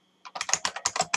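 Fingers type a file name on a computer keyboard, a quick burst of about ten crisp, close keystrokes in rapid, uneven rhythm.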